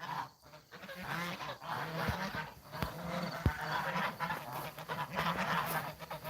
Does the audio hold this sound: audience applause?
no